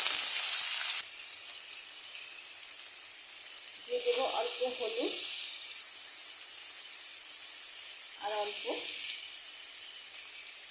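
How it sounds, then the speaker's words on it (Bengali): Potatoes and raw green banana frying in hot oil on a gas stove make a bright, continuous hiss throughout, with someone speaking briefly over it twice. "আমি এখন আলু আর কাঁচকলা ভাজা করে একটু ভাজা করে উঠিয়ে নেব"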